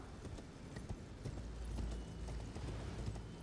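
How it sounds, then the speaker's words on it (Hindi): Horse hooves clip-clop steadily in the Elden Ring video game, a fast, even gallop of close, dull thuds running throughout at moderate loudness, with no voices. "घोड़ा यूज कर लो"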